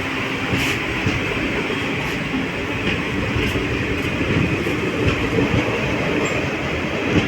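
A special passenger train running from Rajgir toward Natesar, heard from inside a nearly empty coach: a steady, loud rumble of wheels and carriage with faint rhythmic clatter throughout, no talking.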